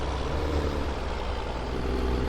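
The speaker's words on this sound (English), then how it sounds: "Yeah, I like the way this John Deere sounds." Engine of a John Deere tractor in Farming Simulator 17, a steady low droning rumble held at even loudness throughout, with no talk over it.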